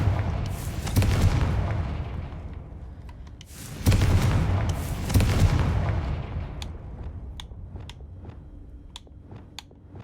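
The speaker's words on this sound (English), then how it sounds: "Confringo." Two heavy blasts from the Confringo fire spell in the video game Hogwarts Legacy, each a loud booming burst followed by a rumbling decay, with faint crackles trailing after the second.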